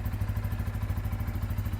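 Bajaj motorcycle engine running steadily close by, a continuous low throbbing idle with rhythmic mechanical clatter and no voices.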